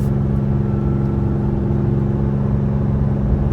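A 2022 Ram 5500 truck's engine at full throttle climbing a hill, a steady, loud low drone with a strong harmonic hum that holds constant throughout.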